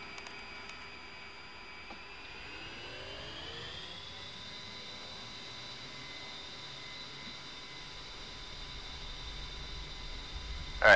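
A jet aircraft spooling up for takeoff in the DCS World flight simulator, a steady engine whine that rises in pitch and then holds, with a low roar building underneath and a bump at the very end.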